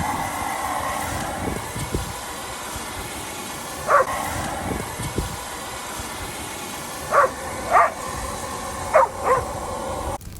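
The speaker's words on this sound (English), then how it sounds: "Crazy dog." A dog barks outdoors in Alaska, one bark first, then a few quick pairs of barks at moderate distance over a quiet background hum.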